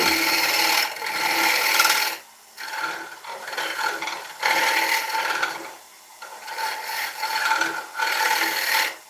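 A woodturning tool scrapes a tenon on a spinning piece of die back ash on a lathe, with loud, rasping cuts in repeated bursts of about two seconds separated by short pauses.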